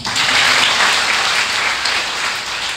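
A church congregation claps loudly together, a dense burst of applause that tapers off slightly toward the end.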